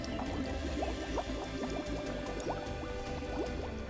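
Small pump moving pool water through a hose while swapping an old pool for a new one, giving a continuous watery gurgle and sloshing with repeated bubbling pulses, steady and close, with no speech.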